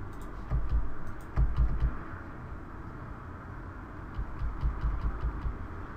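Computer keyboard keys tapped in short irregular clusters of soft clicks while setting up FL Studio 12, fairly quiet over a low background hum.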